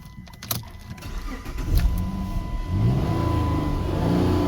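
A car engine cranks and catches, then revs up and holds a steady, loud idle-to-rev drone, heard up close with no talking, just after a P2110 throttle fault code is cleared.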